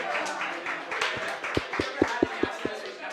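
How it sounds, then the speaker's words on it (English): A few people clap in scattered, sharp beats that grow into a steady rhythm, heard under ongoing chatter. "a big round of applause for our super brave volunteer"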